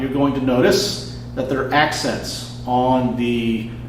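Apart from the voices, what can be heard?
None of the usual background noises is heard.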